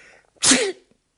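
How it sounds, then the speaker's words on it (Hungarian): A single loud, close sneeze with a sharp intake and burst, standing alone after a moment of quiet, from a man in a Hungarian reading of Chekhov's story. "Amint tetszett látni, tüsszentett."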